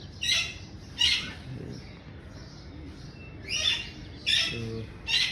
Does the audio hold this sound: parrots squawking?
yes